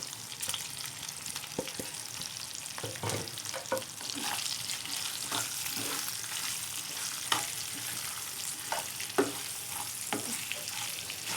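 Spices lightly frying in oil for mung masoor dal with achari mirch, giving a steady close sizzle broken by scattered clinks and scrapes of stirring throughout.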